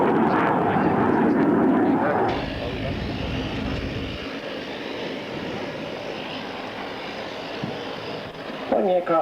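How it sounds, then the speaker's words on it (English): A display aircraft at the Avalon Airshow in 2001 pulls straight up into a vertical climb, its engine roaring loudly overhead and then easing to a steady drone as it climbs away, with commentary voices over the top. "Pulling the aircraft straight up into the vertical."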